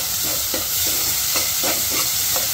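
Onion and chilli fry in oil for rava upma, giving a loud, constant sizzling hiss with soft, evenly spaced stirring scrapes underneath.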